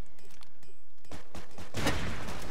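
Gunfire in the first-person block-building shooter Ace of Spades: a few scattered shots early on, then a denser, louder burst of firing toward the end.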